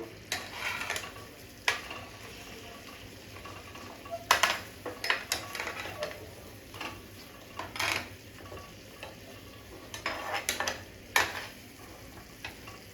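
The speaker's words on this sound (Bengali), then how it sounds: "এবারে খুব ভালো করে নাড়াচাড়া করে নেব" Food is stirred in a pan with scattered scraping and clinking strokes of a utensil against the metal, irregular bursts over a faint, low background sizzle.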